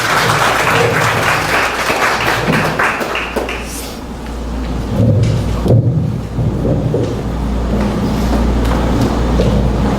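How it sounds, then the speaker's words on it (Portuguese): An audience applauds a speaker at a spiritist lecture, a broad, steady wash of many hands clapping that fills the whole stretch, briefly dipping midway before swelling again, with no speech over it. "Uma salva de palmas para ele, que ele merece."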